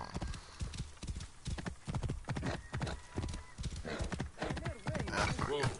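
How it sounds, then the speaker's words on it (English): Horse galloping in Assassin's Creed Origins: rapid, steady hoofbeats clatter continuously up close, with a whinny near the end and someone talking over them. "Tell me I can't ride a horse into a building."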